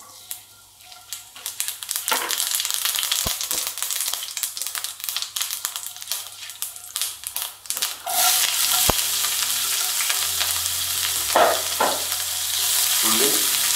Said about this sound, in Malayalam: ഏകദേശം ഒന്ന് റോസ്റ്റ് ആയി വരുമ്പോൾ നമുക്കതിലോട്ട് അല്പം ഉരുതാളും കൂടി ഇട്ട് കൊടുക്കുക